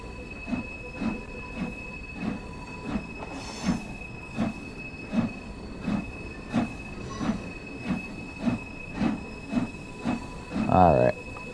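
A train in Train Sim World 4 rolls slowly to a stop, wheels thumping over rail joints in a steady rhythm under a constant electric whine, ending in a brief loud brake squeal; someone talks over it.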